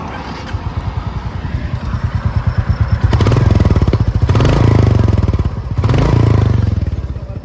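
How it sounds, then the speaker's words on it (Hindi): Royal Enfield Classic 350 single-cylinder motorcycle in neutral, a slow thumping idle that is then blipped in three strong revs, each a loud, rapid pulsing burst close by before easing back to the steady beat. "अभी जो एक बार क्लासिक की और सुन लेते हैं,"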